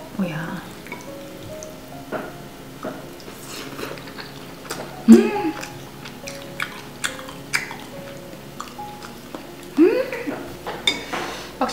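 Someone eats seaweed noodles with meat, making soft chewing and slurping sounds broken by light clinks of utensils against a dish. Speech comes through now and then.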